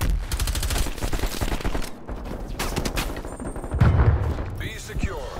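Rapid automatic gunfire in Call of Duty: Black Ops Cold War during a Domination match on Nuketown '84, loud dense bursts of shots with a heavy thump near the end, a voice briefly heard among the shooting.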